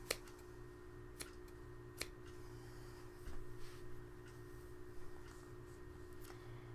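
Scissors snipping yarn on a knitted baby cupcake hat: a handful of sharp, close clicks and snips spread unevenly over a quiet background hum, with faint rustling of the yarn between cuts.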